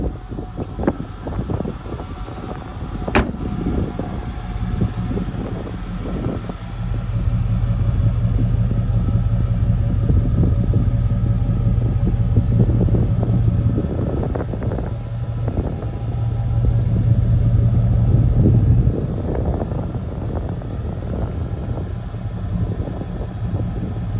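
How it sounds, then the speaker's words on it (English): A 1994 GMC Sierra 1500 OBS short-bed single-cab 4x4 pickup rumbles through its exhaust at a low, steady idle, swelling louder through the middle before settling back, with one sharp click near the start. "Awesome sounding exhaust."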